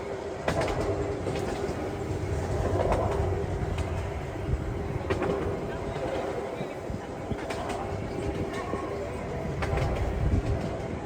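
A heritage branch line train heard from on board near the Jurassic Coast, a steady rolling rumble with scattered clicks of wheels over rail joints and faint birdsong in the background.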